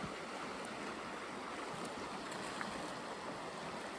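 A swollen river running high with floodwater gives a broad, steady rushing wash, continuous and even at moderate distance with no voices.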